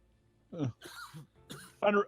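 A cough and throat clearing come in short raspy bursts amid a host's talk on a comedy variety show, with the bursts fairly close and moderate in volume.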